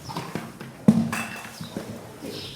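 A horse moves on its hooves in a few uneven, close clip-clop steps, with one sharper knock near the middle and soft shuffling between them.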